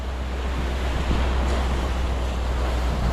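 Steady wash of Pacific Ocean surf and wind roaring continuously around a boat heading against the waves, with heavy low rumble throughout and no voices.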